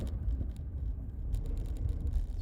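A car driving on the road during a rideshare trip toward an airport, a steady low rumble of engine and tyre noise from inside the cabin, continuous and moderately quiet with no talk.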